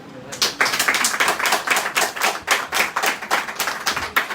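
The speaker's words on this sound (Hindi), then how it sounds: "बजा दो ताली।" Rhythmic hand clapping from a small group during a business plan presentation, steady regular claps repeating about twice a second, fairly close and alone without talk.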